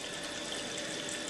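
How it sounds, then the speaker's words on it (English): Condensed pure water trickles from the end of a cooled distillation tube, a faint, steady hiss of running water with no other sounds. "the water vapour condenses and water trickles out the end"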